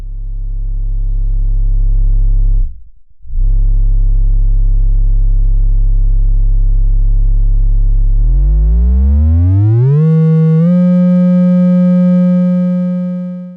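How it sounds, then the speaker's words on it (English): A steady sine tone from the Softube Modular software synthesizer hums low, cuts out briefly, then returns and glides upward in pitch before holding at a higher note. "But the sine wave is cleaner than that of the VCO."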